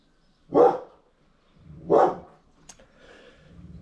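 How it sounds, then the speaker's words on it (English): A neighbour's dog next door at a house in Greece gives two loud barks about a second and a half apart, then quieter rustling and movement follow. "It's our next door neighbour's dog."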